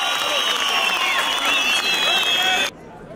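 At a festival concert, the audience sends off the band with a swell of applause and cheering mixed with bright whistles, then the crowd noise drops off abruptly near the end.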